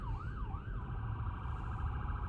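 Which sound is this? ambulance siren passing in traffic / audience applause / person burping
ambulance siren passing in traffic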